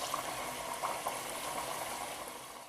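Potato chips frying in hot oil in a big skillet give a steady, dense bubbling hiss that holds level throughout, close up and with no talking.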